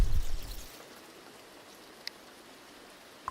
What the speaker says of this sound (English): I like the noise. The rain is so nice.